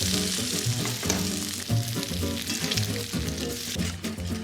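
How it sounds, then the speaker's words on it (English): Bacon crisping in a pan, a dense continuous sizzle and crackle close up, with soft bumps as the strips are turned over, no voices. "Let's flip our bacon. Nice and crispy."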